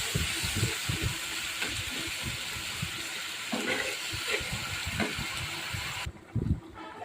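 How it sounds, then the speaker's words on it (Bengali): A splash of water hits spice paste frying with chilli and onion, setting off a steady, close hiss and sizzle with a few clattering knocks, then a brief quieter patch near the end. "হালকা একটু পানি দিয়ে ভালো করে মশলাটা কষিয়ে নেব"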